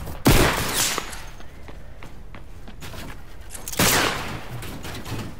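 Gunfire in a battle royale shooter, with two loud bursts of shots near the start and again partway through, over continuous rattling and thumping game noise and no talking.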